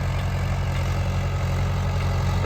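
A diesel tractor engine idles steadily nearby at about 1400 rpm, a low, even chugging throb with no other sounds over it.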